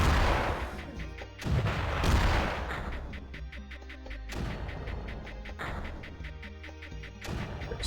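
Missiles launch and explode in the strategy game Creeper World, producing repeated booming blasts and crashes in a dense, irregular barrage that stays loud throughout.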